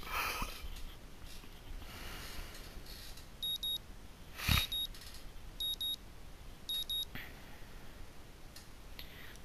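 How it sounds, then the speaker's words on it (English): Alarm clock going off in the visual novel Katawa Shoujo: four short bursts of high electronic beeping spaced about a second apart, faint and clear over quiet room hiss, with a brief sharp noise between them. "the sound of my alarm quickly has me up and about"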